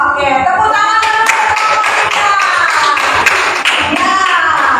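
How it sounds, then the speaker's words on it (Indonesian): A fifth-grade class claps together in a classroom, a dense, loud burst of applause that keeps going for several seconds, with voices mixed in underneath. "tepuk tangan dulu."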